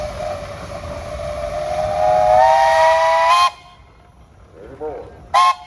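A loud, sustained steam whistle from a steam traction engine at a steam and threshing show parade, one long rising blast cutting off abruptly, then a short second toot after brief talk and crowd noise.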